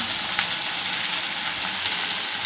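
Prawns frying in a pan with turmeric and spices, a steady close sizzle running without pause, with a faint stirring scrape now and then and no voices.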